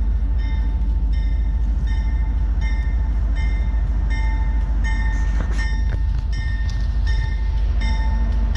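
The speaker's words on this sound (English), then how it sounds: "I'm gonna let this guy start to pass. That way I don't get hit by a train." Train 4441 rumbles steadily past at close range beside a creek, a loud continuous roar of rolling wagons with rhythmic repeating clatter throughout and no talk.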